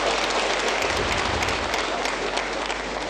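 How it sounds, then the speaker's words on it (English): Audience applause at the launch of a national re-orientation campaign, a dense, loud, continuous wash of clapping from a large crowd, sustained evenly without pause. "Can we give him a very changed round of applause?"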